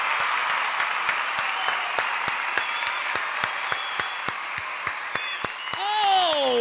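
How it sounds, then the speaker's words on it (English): A round of applause at a wrestling review show: sharp claps land in a regular, quick rhythm over a softer bed of crowd clapping. A voice rises briefly over it just before the end. "Round of applause."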